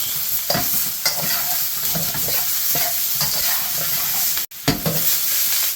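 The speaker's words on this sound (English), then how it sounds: "In with the capsicum and tomatoes. Coat them evenly with the other ingredients." Capsicum and tomatoes sizzle steadily in a hot pan for a fish jalfrezi, with a spoon stirring and scraping every second or so and one sharp clack near the end, close and continuous with no talk.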